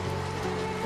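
Rain falls steadily on a village in an animated Hindi story, a continuous close wash of patter with no break over the short moment.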